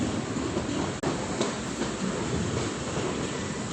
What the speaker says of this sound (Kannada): ಮೈಸೂರು ಪ್ಲಾಟ್ಫಾರ್ಮ್ 1ಕ್ಕೆ ಬಂದಿದೆ ಇವಾಗ ಟ್ರೈನು